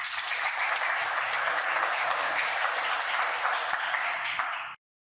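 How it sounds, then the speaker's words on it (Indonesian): Classroom applause from a group of students, a steady, dense patter of many hands clapping for several seconds before cutting off abruptly. "Kita kasih aplaus untuk kita semuanya."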